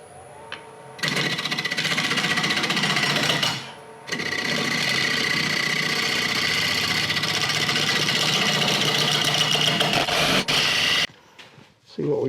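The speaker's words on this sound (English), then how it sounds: "And now I'm going to switch over to a scraper." A scraper cuts a mulberry wood bowl spinning on a lathe, making a steady loud buzzing rattle with the motor hum. It runs close and continuous, with a short dip partway through and a stop near the end.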